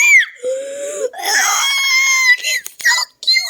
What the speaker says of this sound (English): Okay, I'm gonna scream.